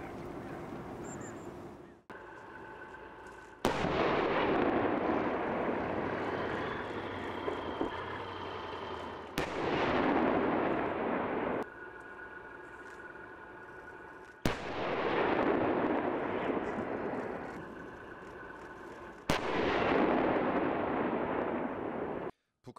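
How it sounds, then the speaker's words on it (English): North Korean artillery firing inside the West Coast buffer zone, heard as four loud booming blasts spaced several seconds apart, each followed by a long rumbling decay. "This was North Korea resuming artillery firing inside the buffer zone of the West Coast"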